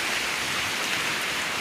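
Heavy rain pours during a flood in India, a dense, steady hiss with no breaks, loud and close, with no voices heard.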